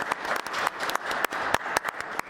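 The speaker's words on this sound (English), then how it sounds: "I just want to give a round of applause to the chief" Applause breaks out at a city appointments committee meeting, a dense patter of many hands clapping steadily across the room, with sharper individual claps standing out through the sustained wash.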